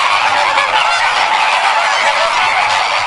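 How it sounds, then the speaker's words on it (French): A large flock of greater flamingos in the Camargue marshes calls in a dense, continuous goose-like honking chorus, loud and close, with no pause. "Dans les marais camarguais, la parade amoureuse des flamants roses."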